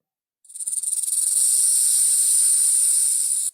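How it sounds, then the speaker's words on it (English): A snake gives one long, loud, steady hiss that starts abruptly after a brief silence and holds unbroken to the end, with nothing else heard. "Snake."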